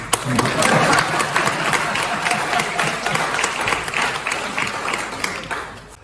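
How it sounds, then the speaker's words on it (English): Small audience at a book launch clapping steadily for several seconds, close and fairly loud, with scattered individual claps standing out and the applause thinning toward the end. "Could you give him a small round of applause because he's finished?"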